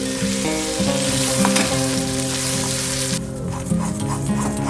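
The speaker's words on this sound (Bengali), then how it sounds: "এইভাবে অনবরত নেড়ে নেড়ে জলটা আমি শুকিয়ে নিচ্ছি।" Pea paste for matar kachuri being stirred constantly in a pan to dry out, a loud continuous sizzle and scraping under a steady low kitchen hum, close and unbroken.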